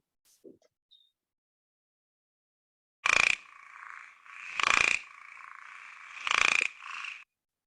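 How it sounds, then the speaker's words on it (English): An Indian cricket frog from the Sunderbans gives three loud, rasping croaks at even intervals, each a short burst followed by a trailing buzz, after a moment of near silence with faint clicks. "Indian cricket frog?"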